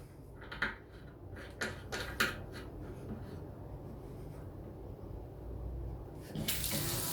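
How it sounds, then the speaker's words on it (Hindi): Water runs smoothly and fast from a freshly cleaned bathroom tap whose clogged nozzles were cleared, a steady close rush with a few brief clattering bursts early on and a brighter splash near the end. "अब देखें आप पानी कितना स्मूथ और तेज़ी से आ रहा है।"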